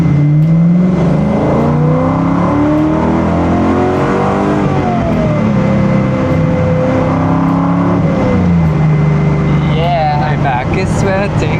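Ford Mustang Mach 1 from the 1970s, making 382 wheel horsepower, pulls in first gear while misfiring, its engine drone rising and falling steadily and loud throughout, with people talking over it.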